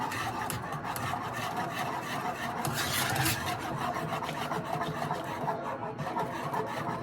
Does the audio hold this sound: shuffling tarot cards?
no